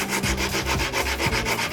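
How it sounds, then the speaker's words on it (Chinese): Bicycle disc brake pads are rubbed on 80-grit sandpaper, a close, rhythmic back-and-forth scraping with about four strokes in under two seconds and no voices. "80番的砂纸先磨"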